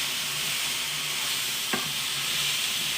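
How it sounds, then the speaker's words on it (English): Mushrooms sauté in a pan with a steady, loud sizzle, and a brief scrape of a stir cuts through the frying hiss partway through. "I'm gonna come over here to my mushrooms and give them a stir."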